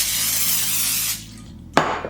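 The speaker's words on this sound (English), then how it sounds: "and then spray that with cooking spray as well." A sustained hiss of cooking spray onto parchment held for over a second, then a brief quieter spurt and a light knock near the end.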